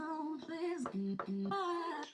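Short pitched vocal snippets arranged into a choppy melodic phrase, with abrupt cuts between held syllables.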